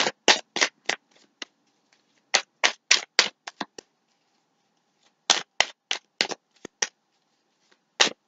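Tarot cards being shuffled by hand in short crisp riffling bursts, several quick clusters separated by pauses, close and clear in an otherwise quiet room.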